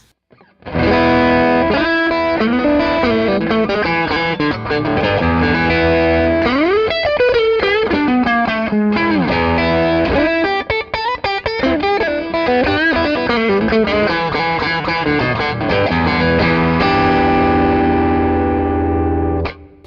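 Distorted electric guitar with delay and echo trails, sustained chords and bending notes ringing out continuously and loudly, with no voices.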